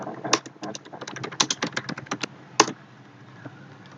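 Computer keyboard typing while entering data into an Excel spreadsheet, a close, irregular run of sharp key clicks with a few louder taps, then quieter near the end, with no talk.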